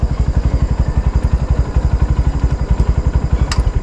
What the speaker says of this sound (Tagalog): Itong motor ni Power Kanoy